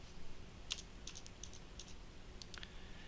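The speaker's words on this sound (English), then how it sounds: "We hit the return key" A few separate computer keyboard presses, sharp clicks of the return key and spacebar spaced irregularly, faint and close over a low background hum.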